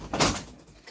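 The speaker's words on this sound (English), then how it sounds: "let me close the door too" A door swings shut indoors with one brief, moderately loud whoosh and knock, followed by a quieter room.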